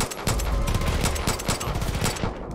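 Rapid gunfire crackles in a multiplayer match of Far Cry 5, a dense, loud burst of repeated shots rattling almost continuously for a couple of seconds.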